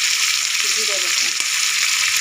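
Ginger, garlic and cumin paste frying in a pan for hilsa fish curry, giving a steady, close sizzle that holds evenly throughout.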